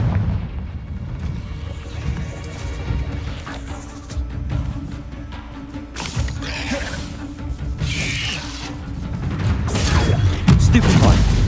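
Confringo blasting spell in Hogwarts Legacy bursting amid game combat, booming impacts and mechanical clatter layered over a dense, continuous rumble that swells toward the end.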